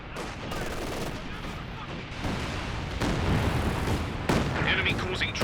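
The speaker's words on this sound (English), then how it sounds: "Here we're getting targeted by the Allied land mattress." Rocket artillery from a land mattress launcher strikes in a Company of Heroes 2 match, a continuous roar of blasts and crackling gunfire that grows louder and heavier toward the end.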